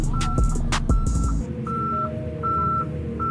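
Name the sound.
car reversing alarm beeping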